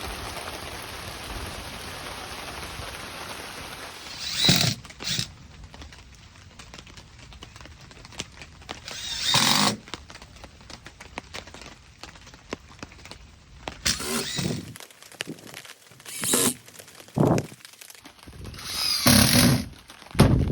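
A power drill drives 1.5 inch screws into plywood during a rebuild of a rotted RV slide-out, in several short whirring bursts with pauses between, over a quiet steady background hiss.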